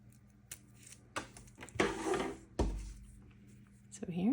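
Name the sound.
scissors cutting a paper snowflake pattern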